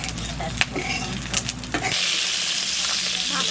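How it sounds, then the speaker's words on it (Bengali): Magur catfish fries in hot oil for a home-style fish curry, a steady, bright sizzle that swells to full strength about halfway through and continues evenly, with some clattering and background sound before it. "মাছটা ভাজা হয়ে গেছে, এবার আমি তুলে নেব"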